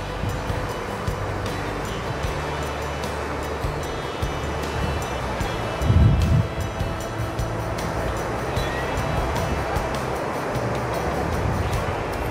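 Sea waves wash over the rocky shore of a beach at Vung Tau at low tide, a steady loud surf roar throughout with one heavier surge breaking near the middle.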